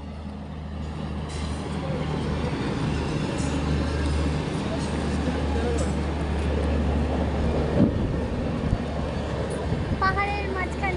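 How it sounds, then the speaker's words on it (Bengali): A train rolling through a narrow pass between hills near Vizag, a steady low rumble of wheels and carriages that holds throughout, with a brief clank near the end and a faint voice. "পাহাড়ের মাঝখান দিয়ে, পাহাড়ের গলি দিয়ে যাচ্ছে ট্রেন।"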